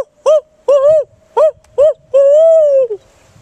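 A person imitates a barred owl's hooting call outdoors at a nature center to draw responses from wild turkeys: four short loud hoots followed by one long drawn-out hoot, close and clear.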